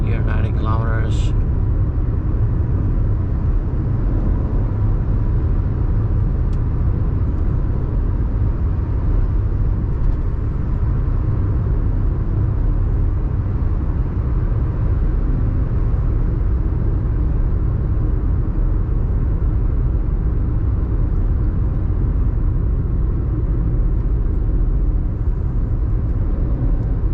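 A 2020 Toyota Aygo 1.0 cruising along an open road at about 90 km/h in fourth gear, with a steady low engine drone and road rumble heard from inside the cabin throughout, plus a brief click near the start.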